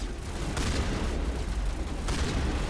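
Shotgun blasts from the video game Mass Effect Legendary Edition, two sharp booming shots about a second and a half apart over a dense background of game combat noise.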